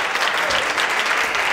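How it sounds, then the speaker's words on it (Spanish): Students in an economics lecture hall applauding at the end of the course, a dense, steady burst of many hands clapping at once, loud and continuous with no pauses. "No hacía falta que aplaudieran."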